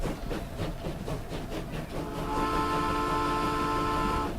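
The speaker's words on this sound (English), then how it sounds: "But look at it. That's a proper train." Game train in the simulation Transport Fever, a steady rumbling rail roll with rhythmic clatter that swells into a sustained, loud drone with tonal hum partway through, no talking over it.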